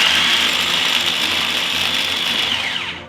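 A food processor whirs steadily while mixing quiche lorraine pastry dough with added water, a loud continuous mechanical drone with rattling that winds down at the very end.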